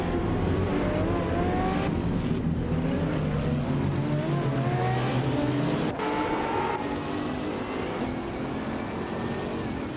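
Race cars howl past in a busy pack, engine pitch sweeping up and down as several cars overlap at close range, loud and steady throughout with no talk.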